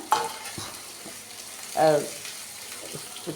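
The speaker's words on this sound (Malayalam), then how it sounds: "ഇനി നമുക്ക് ക്യാപ്സിക്കം ഇട്ട് കൊടുക്കാം" Capsicum stir-fries in a pan on high flame for Gobi Manchurian, giving a steady sizzle with a few clinks and stirring scrapes, while a voice speaks briefly.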